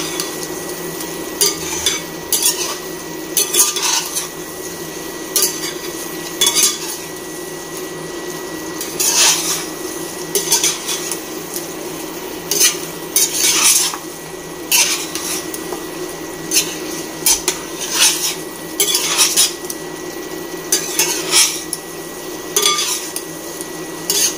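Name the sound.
stirring mutton curry in a pan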